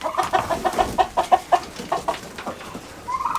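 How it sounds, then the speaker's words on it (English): Turkeys and chickens cluck in a run of close, repeated calls as they are let out of their pen, the bursts coming in a quick rhythm and tapering toward the end. "I'm gonna try to let these turkeys and chickens out, but they don't want out."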